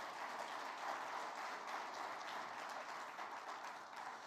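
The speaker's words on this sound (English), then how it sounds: "Let's give all of our sponsors a round of applause" An audience at an energy summit applauds its sponsors in an even, continuous patter of clapping that sounds distant and fairly faint, with no voices over it.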